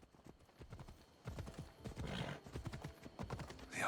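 Rapid rhythmic hoof clops of a horse trotting in the video game Assassin's Creed Odyssey, fairly close, with a brief whinny-like cry toward the end.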